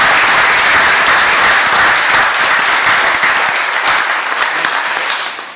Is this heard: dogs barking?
no